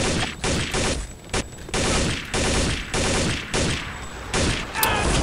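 Rapid bursts of automatic gunfire in the shooter game Counter-Strike: Condition Zero, loud repeated volleys separated by short gaps, close and dense.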